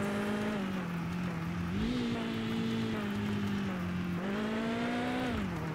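A car engine in the video game Mon Bazou revs high and steady, its pitch climbing in two long surges with a brief dip between, loud and continuous throughout.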